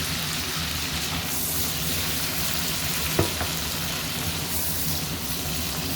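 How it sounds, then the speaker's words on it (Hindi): Chicken sizzling and frying in spiced oil and ghee for a karahi, a loud, steady, close hiss with a brief clatter of stirring partway through. "अब हम अपनी चिकन शामिल करेंगे, जो हमारे चिकन है वो हम शामिल करेंगे।"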